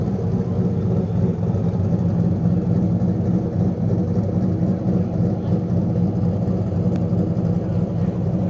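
A Corvette engine hums steadily at low pitch, idling or rolling slowly nearby at a car meet, with constant loudness throughout.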